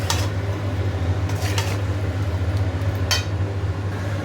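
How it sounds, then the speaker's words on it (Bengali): Chicken and capsicum stirred in a cooking pot, a low steady bubbling hum with a few scraping, clinking spoon strokes against the pot, close and moderately loud, no talk. "এটা ভালো করে নেড়ে নিই।"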